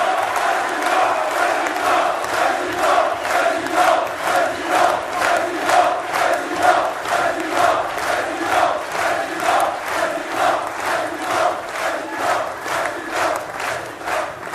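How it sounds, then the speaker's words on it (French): A crowd at a French political rally for the UPR and François Asselineau chants and claps in a steady rhythmic pulse, loud and continuous, with massed voices rising and falling on each beat. "Un tonnerre d'applaudissements pour l'UPR."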